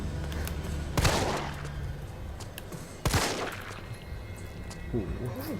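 Two sharp, reverberant gunshots from Resident Evil 3, spaced about two seconds apart, plus a fainter third report, heard at moderate distance under an ongoing murmur of background talk.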